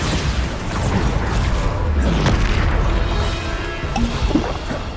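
The Bombarda blasting spell from Hogwarts Legacy during a trials challenge, a loud rumbling crash and boom with creaking, mechanical debris noise layered over continuous heavy combat clatter.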